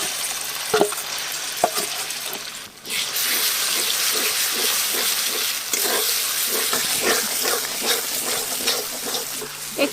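Chicken and leftover spices being sautéed and stirred in a pan for biryani, giving a steady close sizzle and hiss with repeated scraping stirs, loud and continuous after a brief quieter start.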